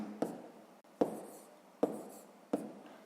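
A pen writes by hand while a sixth-grade math multiplication is worked out, making four sharp taps spaced evenly, each followed by a short scratchy stroke, close and fairly quiet.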